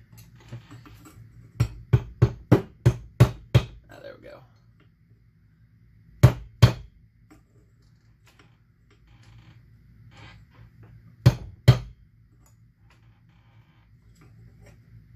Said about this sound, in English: Try and tap this down here.